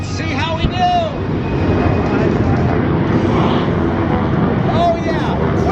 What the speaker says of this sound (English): The jet truck is way out in front at over 300 miles per hour.